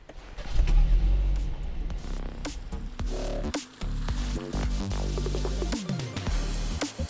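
A 2019 BMW 330i with a 2-liter twin-scroll turbocharged inline-four drives on the road, its engine droning steadily from inside the cabin with a shifting low hum and a brief lull midway.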